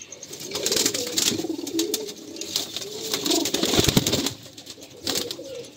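Several domestic pigeons, kept hens among them, coo in a steady rolling chorus at close range, low throaty calls overlapping with a few brief flutters, and no one speaks.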